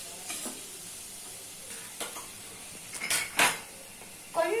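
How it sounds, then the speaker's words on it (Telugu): Onion pieces sizzle softly in a pan for chicken curry, broken by a few sharp clinks and scrapes from a stirring utensil, with no talking. "ఉల్లిపాయ ముక్కలు వేసి"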